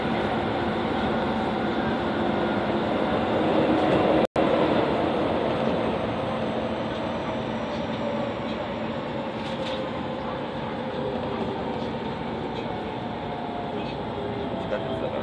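A subway train runs through an underground line with a steady, loud rumble and hiss of wheels and rolling stock. It carries on without break for the whole stretch, with one sharp click near the start.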